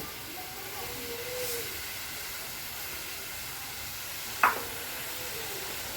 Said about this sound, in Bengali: এটা আমি বেশ ফুটতে দেবো